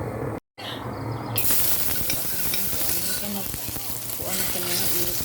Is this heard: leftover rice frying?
yes